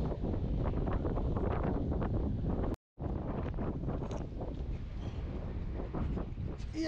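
Heavy wind buffeting a microphone outdoors at a tilapia fishing spot, a dense continuous rumble that fills the clip with a brief dropout near the middle and no clear talk.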